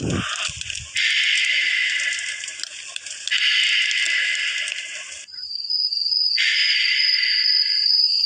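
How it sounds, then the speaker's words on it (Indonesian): Loud, dense cricket chirring in a forest fills the air in long continuous bursts, with short gaps and a thin high whine between them; no voices. "Oke, ini suara kayak di hutan gitu ya."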